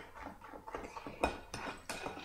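Blueberry muffin batter mixed by hand in a bowl, with a spoon or utensil clinking and scraping against the sides in uneven strokes, several sharper knocks standing out, close and fairly quiet.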